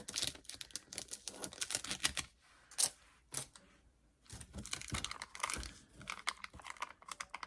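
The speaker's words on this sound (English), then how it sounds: "And we will cut away the corners." Paper corners are cut away for a craft project, giving quiet, close snips and crinkly paper rustles in quick, irregular bursts.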